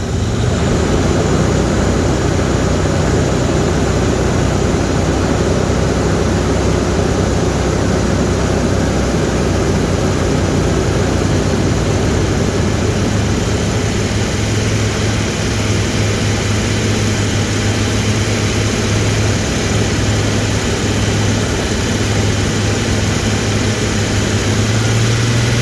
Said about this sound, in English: I'll rev it up a little bit just to help things along.